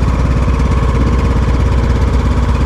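A John Deere lawn tractor engine pulls off in drive, a loud close chugging putter with rapid regular firing pulses, running steadily without speech.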